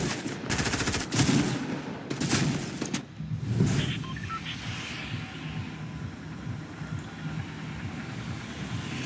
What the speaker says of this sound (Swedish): Förutom att alla skjuter på mig